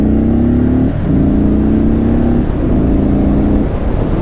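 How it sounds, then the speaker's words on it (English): A torquey motorcycle ripping around town on the throttle, its engine loud and close, rising in pitch through three acceleration pulls with short dips between them. "just getting on throttle, ripping around town"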